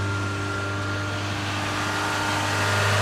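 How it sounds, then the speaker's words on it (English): A Corolla XRS fitted with a Celica C60 limited-slip transmission, one wheel spinning: a steady, close engine drone with a sustained mechanical whine that holds constant throughout. "That's one wheel spinning."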